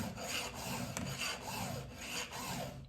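Square file rasping across saw teeth in steady back-and-forth strokes, close and even, roughly one stroke every half second, with no talk.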